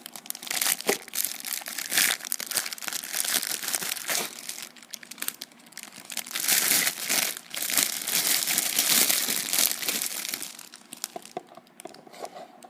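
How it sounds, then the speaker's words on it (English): Miniature trophies being unwrapped from crinkly packaging, producing loud, continuous close-up crinkling and crumpling with sharp crackles, a brief lull near the middle, then more rustling that fades toward the end. "Two different kinds of trophies, if I will unwrap them."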